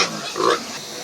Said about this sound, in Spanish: Estos son los cerdos casco de mula.